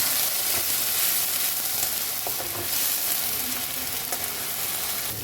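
Prawns frying in hot oil in a wok for a Bengali prawn malai curry, a steady close sizzle with occasional stirring scrapes throughout.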